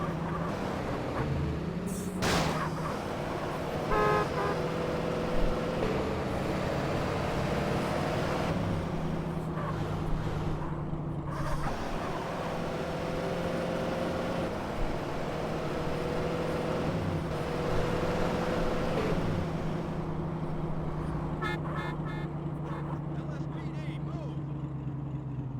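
Video-game car driving in Grand Theft Auto: San Andreas, a steady engine drone with shifting pitch running throughout, with a few sharp clunks and someone talking over it at times.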